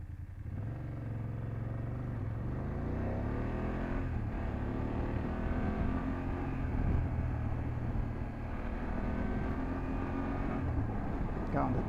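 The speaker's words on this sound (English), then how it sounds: "the Tesla is going all fast and furious" A Tesla hums steadily close by with rising and falling pitch, accelerating past under road noise, heard from a BMW F800GS motorcycle; voices murmur faintly in the background.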